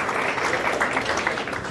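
An audience at an awards ceremony claps steadily for a couple of seconds, a dense, even patter of many hands at moderate distance with no voices over it.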